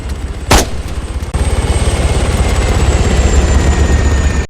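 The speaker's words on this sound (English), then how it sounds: "The helicopter is completely maxing out the volume" A helicopter's rotor thumps in a fast, heavy pulse at overwhelming loudness in the game ArmA 3, with one sharp crack near the start cutting through the drone.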